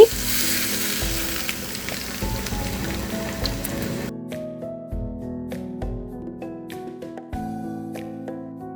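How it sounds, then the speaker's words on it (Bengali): Hot oil poured over chicken momo filling in a bowl, a loud crackling sizzle that cuts off sharply midway, followed by quieter scattered ticks and pops with background music. "সবশেষে এখানে গরম তেল ঢেলে দিচ্ছি।"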